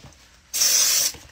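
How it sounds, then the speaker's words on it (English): A single half-second burst of deodorant from an aerosol can: a loud, close, bright hiss that starts and stops sharply, with quiet room tone on either side. "Right, you gotta add deodorant, guys."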